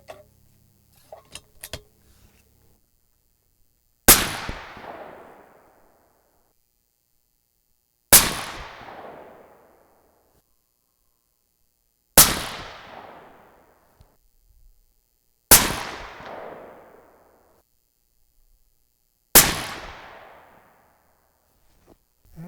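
Five sharp, loud 300 Win Mag rifle shots firing 230gr Hornady A-Tip bullets over Reloder 26 powder, each a hard crack with a decaying echo, spaced several seconds apart.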